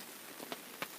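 Rain falls on a hillside campsite as a steady, quiet patter, with a few louder drops striking a surface close by.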